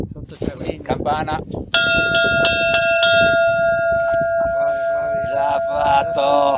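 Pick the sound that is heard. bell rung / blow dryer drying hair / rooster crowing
bell rung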